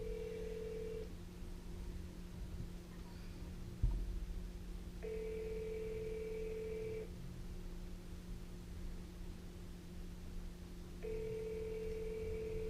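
An outgoing telephone call rings back in repeated two-tone bursts about every three seconds, steady and clear over a constant background hum, with no talking.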